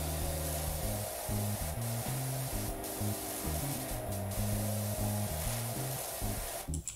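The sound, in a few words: pressure washer spraying a patio table in PowerWash Simulator video game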